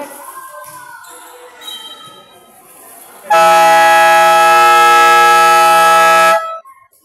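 A loud, sustained game-end buzzer at a basketball game blares for about three seconds after quieter sounds, ending the third quarter, then cuts off abruptly.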